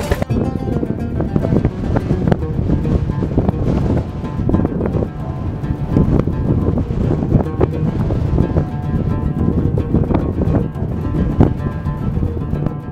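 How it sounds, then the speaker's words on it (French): Strong wind carrying sand from the dunes blows into an open 4x4 in Morocco, a loud, constant buffeting roar over the microphone, with faint voices underneath. "Ce n'est pas cool de sortir des dunes avec ce vent de sable."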